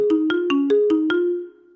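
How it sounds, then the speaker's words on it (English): A telephone rings in a rapid repeating electronic pattern, six short bursts of tone close and loud, then the ringing stops and fades to silence. "Is that damn ringing loud in the thing?"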